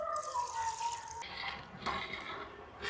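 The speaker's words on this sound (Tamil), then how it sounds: "கொஞ்சமாக தண்ணி ஊற்றுவோம்." Water poured in a short stream into a pot of tamarind-based fish curry in a village kitchen, a close splashing, trickling fill with a brief gurgle, then a second pour near the end.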